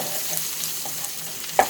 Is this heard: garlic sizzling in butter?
yes